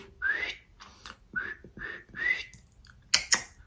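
Several short whistled notes with rising pitch glides, a person whistling in brief bursts separated by pauses, close by.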